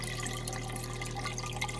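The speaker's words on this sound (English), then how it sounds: "I'm going to fill it right to the top." A hose fills an RV black tank with water in a steady, rushing stream, along with a low constant hum. The sound is faint and continuous, and no one speaks.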